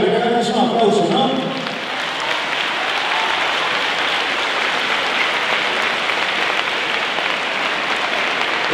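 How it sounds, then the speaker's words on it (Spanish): Audience applause fills a school Christmas charity event, a steady wash of clapping from a large crowd that starts under a speaking voice and then carries on loud and unbroken. "A ver, que hagan un aplauso, ¿no?"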